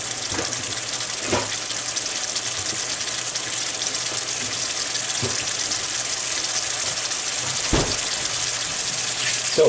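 Shrimp curry stew with hot pepper returning to a boil in a pot, giving a steady close bubbling hiss broken by a few soft clinks, with no voices.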